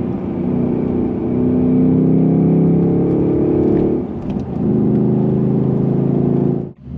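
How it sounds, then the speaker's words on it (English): A 2024 Ford Mustang GT V8 engine revving on a downshift while driving, a loud close drone that rises, dips briefly, then climbs again, heard alone without talk. "Speed limit's picking up a little bit more in the area, so I want a downshift."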